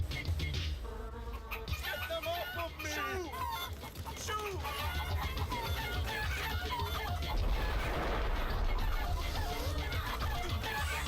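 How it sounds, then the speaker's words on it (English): Clucking chicken calls from the Twinsane video game, sounding over a dense, continuous backdrop of game music and effects at steady loudness. "Why is it still making a chicken sound?"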